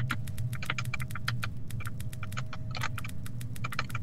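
Rapid typing on a computer keyboard, close and crisp, with keys clattering in quick irregular bursts over a steady low hum.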